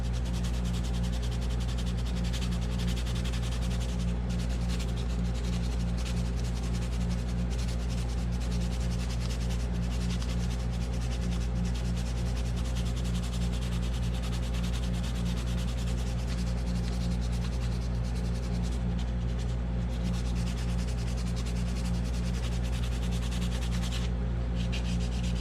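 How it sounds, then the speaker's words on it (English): Steady rubbing and sanding along the edges of a 3D-printed model ship, a continuous close scraping texture with a low constant hum beneath and no talk. "On models, I like to pretty much go around and sand all the edges just a little bit"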